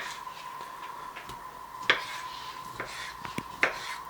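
Knife chopping an orange into small pieces on a board for an alcohol-free sangria: quiet, irregular taps and knocks with a couple of sharper clicks, over a steady faint background hum.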